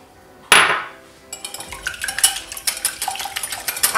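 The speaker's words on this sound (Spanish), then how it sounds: "Lo primero que vamos a hacer va a ser batir los huevos." A whisk beats eggs in a bowl for a lemon pie, clattering rapidly against the sides in a steady, close, fairly loud rhythm after an initial sharp knock.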